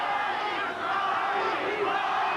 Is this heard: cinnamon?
no